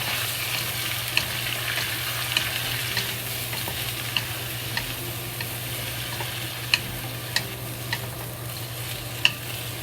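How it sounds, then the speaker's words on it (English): Shredded potato stir-fried in a wok with a chopstick, a steady broadband sizzle of frying with occasional sharp ticks and clicks of the chopstick against the pan, fairly loud and close, with a low hum beneath and no talk. "We get a chopstick, we fry the potato."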